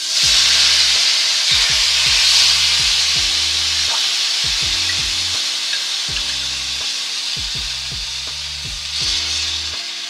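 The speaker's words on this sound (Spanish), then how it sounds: "Y le vamos añadiendo el caldo." Broth poured into a sizzling pan of rice for arroz a banda, a steady bright hiss and sizzle running throughout over a quiet looping musical backing.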